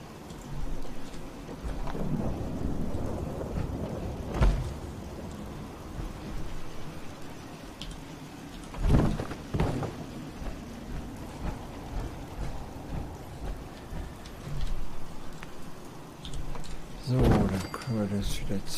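Steady rain and rolling thunder in the game Fallout 4 fill the background, with several louder thunder cracks rising above the downpour while people talk over it.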